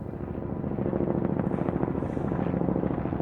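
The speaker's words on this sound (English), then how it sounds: "And then I heard the helicopter." A helicopter flying on a sunny day in Vancouver, heard as a steady low rumbling throb with a rapid rotor pulse, continuous and fairly muffled.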